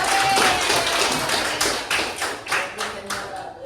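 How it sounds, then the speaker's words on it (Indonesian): A classroom of students claps for a group in an Islamic studies lesson, loose rhythmic clapping at moderate level with some uneven bursts near the end. "Tepuk tangan untuk kelompok yang tadi."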